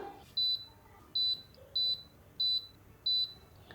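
A home milk-making appliance sounds five evenly spaced, high electronic beeps after its function button is pressed, each short and clear, over a quiet room background.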